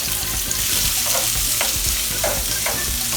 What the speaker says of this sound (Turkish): Ve soğanları pişiriyorum.